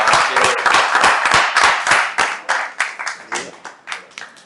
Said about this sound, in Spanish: les pido nuevamente un fuerte aplauso para el compañero Claudio Lozano aquí presente